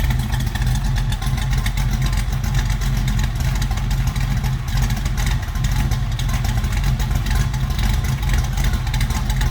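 A 1980 Chevrolet Camaro Z28 V8 runs steadily close by, a deep, loud rumble that holds even throughout with no voices over it.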